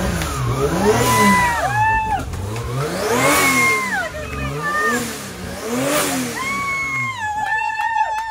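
A drift car's engine at the DriftCup MSO 2023 event revs hard in repeated rising and falling sweeps, loud and close, with a higher whine toward the end.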